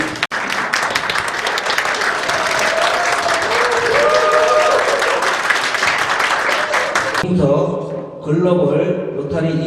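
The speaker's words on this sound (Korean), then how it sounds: "박수 한번 주시기 바랍니다." Loud, dense clapping from the audience at a Rotary club workshop and official visit fills most of the span, then stops abruptly and gives way to a voice speaking.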